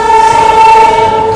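A Marathwada Sampark Kranti Express pulling into Agra Cantt station sounds a loud, steady horn close by, holding one sustained tone for the whole stretch with no talking.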